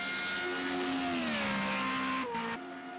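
A Formula Renault race car at the Red Bull Ring spins on track: a loud, steady engine drone with tonal pitch sliding downward as it loses speed, then cutting off abruptly near the end, with no talk.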